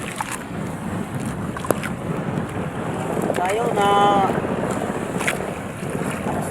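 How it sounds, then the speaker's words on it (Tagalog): Wind-blown outdoor ambience with a broad, steady wash of water, likely waves, while someone talks over it and a brief tonal engine whine rises midway. "Tingnan ng mga alon"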